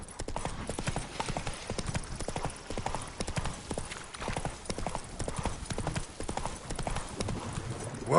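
Horse hooves gallop across ground in The Witcher 3, a fast, steady clip-clop rhythm that runs loud and close throughout, with game speech faintly mixed in.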